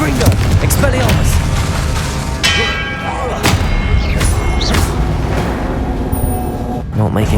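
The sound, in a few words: spell explosions from Confringo casts in Hogwarts Legacy video game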